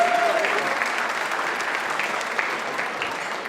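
An audience at a tech competition finale event claps steadily, a broad continuous wash of many hands close to the microphone, with a brief feedback-like whistle at the start.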